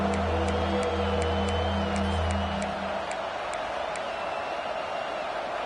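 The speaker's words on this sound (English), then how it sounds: "this crowd really affecting the football game" Home crowd cheering at an LSU football game in Death Valley stadium, a loud, continuous roar of massed voices with a steady wash of noise and some whistles, heard for several seconds.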